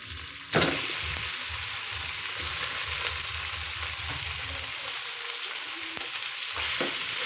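Ground meat, still slightly frozen, sizzles steadily in a pan with onions, a loud continuous fry broken by a few scraping stirs and one sharp clatter near the start.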